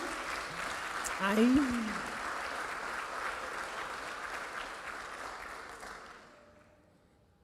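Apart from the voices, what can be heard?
church audience applause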